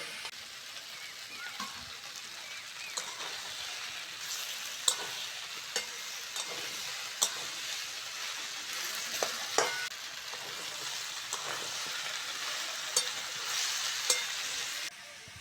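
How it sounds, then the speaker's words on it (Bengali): Mixed vegetables frying and being stirred in a pan for a fish head chorchori, a steady dense sizzle with sharp scraping clicks of the spatula scattered throughout, close and continuous with no talking. "সবজিটা ভালো করে ভেজে নেব চচ্চড়ির সবজি একটু ভালো করে ভাজলে তাহলে চচ্চড়িটা টেস্ট হয়"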